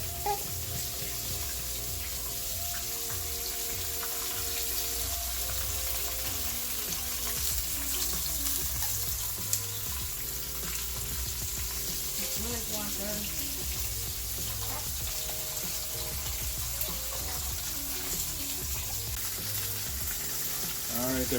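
Festival, Jamaican fried dumplings, frying in hot oil for a Sunday dinner alongside fish: a steady, even sizzle that runs throughout, with faint kitchen clatter and music underneath.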